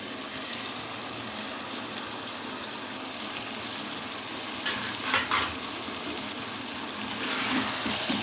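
Whole spices fry in a hot pan for masala pulao, giving a steady, close sizzle with occasional stirring scrapes and a slight swell toward the end.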